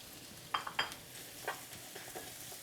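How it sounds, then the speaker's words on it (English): Onion dropped into a hot non-stick skillet for a vegetable stir-fry with peanut sauce, giving a few short, fairly faint sizzle bursts and stirring scrapes over a quiet kitchen background. "I'm going to go ahead and add my onion."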